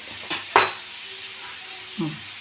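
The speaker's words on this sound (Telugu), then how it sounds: "ఈసారి శుభ్రంగా వేగుతున్నాం" Tempering spices sizzle steadily in a hot pan while making coriander pickle, with a soft hiss underneath and a few sharp clinks of a spoon or ladle against the pan.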